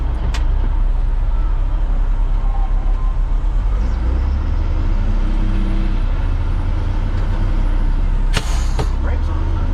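A truck's air brakes are applied, giving a loud hiss that rises over a steady, close engine rumble and road noise near the end, with people talking throughout.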